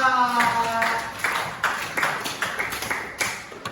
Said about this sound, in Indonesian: Tepuk tangan untuk Nadila.